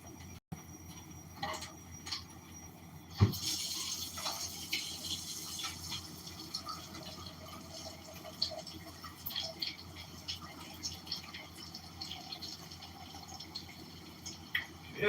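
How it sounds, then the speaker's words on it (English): Tap water runs and splashes faintly while rice is rinsed, a soft steady trickle broken by a few clinks and drips, heard alone. "rinse my rice off."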